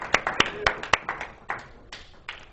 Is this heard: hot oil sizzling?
no